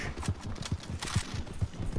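Horse hooves clip-clop in a steady trotting rhythm in Red Dead Redemption 2, fairly close, with a soft hiss and rustle running underneath.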